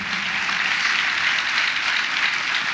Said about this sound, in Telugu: హుషారుగా కొట్టాలి చప్పట్లు